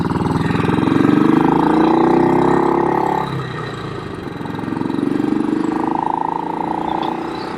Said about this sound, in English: Interesting sound. It's a big single cylinder